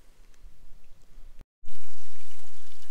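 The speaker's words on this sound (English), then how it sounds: "Cute little waterfall here." Small waterfall at the edge of the Shawnee ghost-town property among prickly pear, a steady rushing pour of water that cuts out briefly, then returns close and louder.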